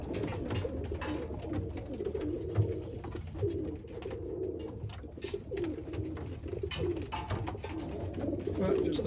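Racing pigeons and Birmingham roller pigeons cooing repeatedly in their loft, a continuous layered burble of coos and rustling, fairly close.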